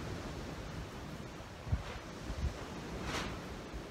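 Strong wind buffeting a timber frame build site during a windstorm, a steady broad rushing roar with a few gusty swells and low thumps, no talk.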